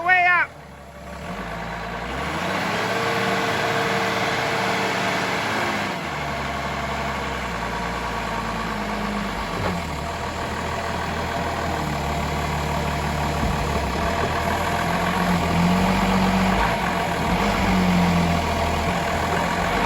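A Toyota 7FDU45 forklift engine idles steadily and rumbles close by, with a rising hydraulic whine as the mast is raised and a voice speaking briefly at the start.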